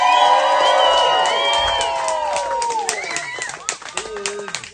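Cheers, whoops and clapping rise from a lively crowd of about 80 people at a burlesque show, voting by applause for a contestant, loud and dense before thinning into scattered claps.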